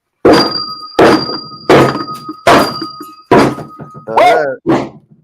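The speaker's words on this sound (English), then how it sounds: "We got the bell on there and everything." A bell is struck five times at a steady pace. Each hit lands as a heavy thunk with a short ringing tone, and a voice follows right after the last strike.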